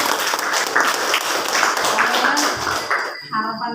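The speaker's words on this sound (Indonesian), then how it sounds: "Kasih aplaus." Classroom applause for a student who has just spoken, a dense, steady wash of many hands clapping at close range that ends with voices starting up in the final moments.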